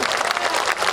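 Audience at an international mushaira and kavi sammelan poetry gathering in Saharsa applauds in a dense, steady burst of clapping that fills the whole moment at high volume, with no voice on top.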